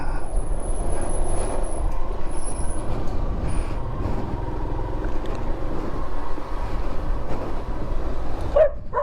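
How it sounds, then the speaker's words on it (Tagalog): A dog barks outdoors during a motorcycle joy ride, faint, scattered barks under a constant loud rumble of engine and road noise. "Hayop na aso yun."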